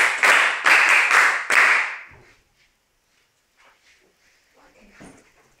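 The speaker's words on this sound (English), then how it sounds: "Let's clap for Akoto." A classroom of pupils claps for a classmate in a few loud rhythmic bursts of patterned clapping, then falls quiet with faint scattered sounds afterward.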